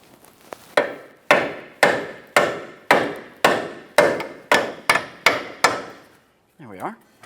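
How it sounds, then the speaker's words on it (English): Steel hammer striking the nut of a front lower ball joint on a 2010-2013 Kia Forte Koup to free it from the lower control arm: about eleven sharp, evenly spaced metallic blows, close and loud, then a brief softer rattle. "we'll have to start tapping on the nut itself to break that ball joint free from the lower control arm"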